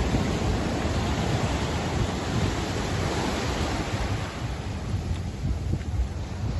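Caribbean sea waves at Playa del Carmen beach, a steady wash of surf with wind buffeting the microphone, continuous and fairly loud with no voices.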